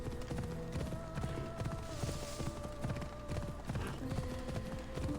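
Steady clip-clop of horse hooves while riding in Assassin's Creed Odyssey, a brisk continuous rhythm under faint game ambience.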